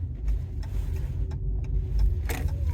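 A car rolls slowly into a car park, its engine a steady low rumble close by, with occasional faint rattles and a brief louder surge near the end.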